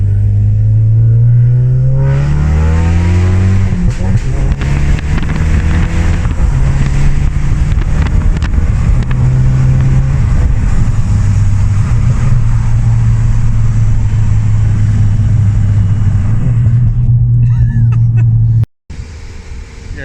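A Ford Focus MK3 RS fitted with a Simpson race exhaust drones loudly while driving on the road, its engine note rising and falling through gear changes, close and continuous, then cutting off abruptly near the end.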